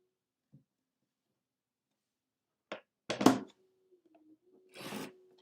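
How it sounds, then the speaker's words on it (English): Card stock is cut on a small trimmer in a quiet room: a few short, soft scraping strokes, one slightly longer slicing rasp, and faint clicks in between, close and isolated with no talking. "We're also going to cut 1 more inch."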